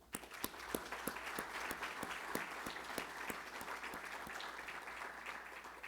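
An annual meeting audience applauds in a steady round, with individual sharp claps standing out over a softer mass of clapping.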